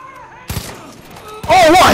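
Gunfire in the video game Far Cry 5, a sharp shot near the middle followed by a loud burst of firing, with a voice talking over it at the end.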